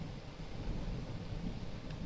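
A low, steady rumble of thunder rolls on continuously, dull and distant, with a windy hiss over it.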